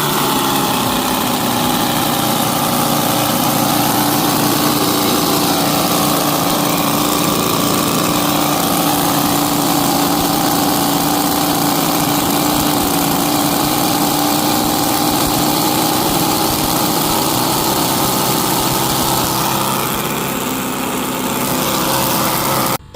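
A mini nitromethane-fuelled supercharged V-8 on an RC boat runs steadily and loudly for the whole stretch, its carburetor set rich, with a constant buzzing drone and a slight change in tone near the end.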